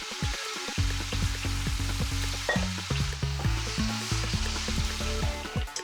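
Onions fry in a pan with a steady, close, dense sizzle and crackle that runs throughout, with a low rumbling hum underneath and no talking.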